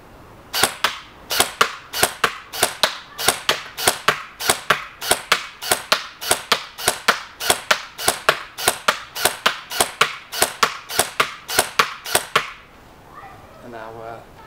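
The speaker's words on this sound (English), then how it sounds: "We'll just try and get some shots in and around the centre of that." An Ares Amoeba AM-013 Honey Badger airsoft rifle (400 fps, 6.01 barrel) fires BBs at a target in a rapid, evenly spaced string of about two dozen sharp, loud cracks, followed by a brief quieter tail of noise.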